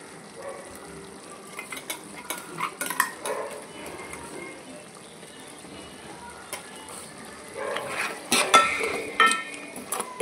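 A spoon scrapes and clinks against a pan of mutton curry with masala in scattered bursts, building to louder stirring near the end over a faint background hiss.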